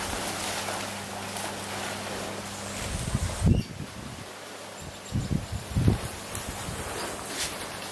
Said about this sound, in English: These palm trees are great when the wind hits and they give you a rattle.